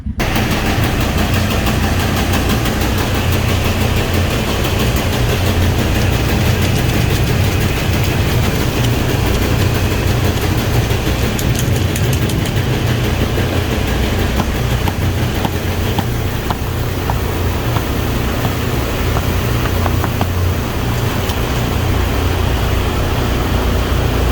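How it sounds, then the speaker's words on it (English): Farm feed auger motor running steadily, a constant broadband mechanical hum and rumble that stays loud and unbroken throughout with no pauses, close to the machinery. "So first step here is just turning the motor back on."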